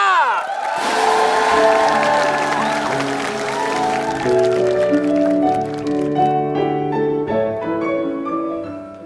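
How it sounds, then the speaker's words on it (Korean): Studio audience at a Korean TV talent show clapping and cheering loudly to welcome a mother onto the stage, a sustained roar of applause with a bright musical sting and band chords ringing over it. "여러분 큰 박수로 하시기 바라겠습니다"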